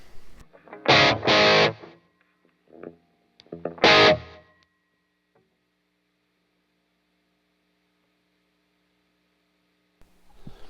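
A few short, loud bursts of electric guitar chords, heavily distorted through a distortion pedal, separated by gaps and followed by long near-silence.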